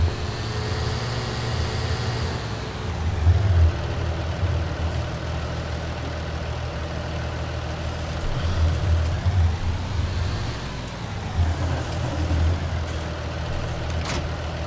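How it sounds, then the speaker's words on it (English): A John Deere tractor engine runs steadily in a game, a loud continuous low drone with slight pitch swells, like revs rising and falling, and no speech. "I don't like the sound of the John Deere."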